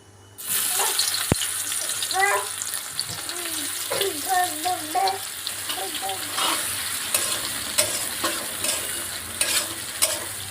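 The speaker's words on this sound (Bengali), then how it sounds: "জিরে ফোড়ন দিলাম এবার পেঁয়াজ কুচি দেব" Chopped onion drops into hot oil after a cumin tempering for a Bengali fish curry, a close sizzle with stirring and a few brief voices in the background.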